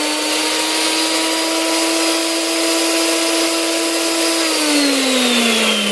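A spa pump cycles through wave mode, a loud steady motor whine that holds its pitch for several seconds and then drops to a lower speed near the end, alone with no talking.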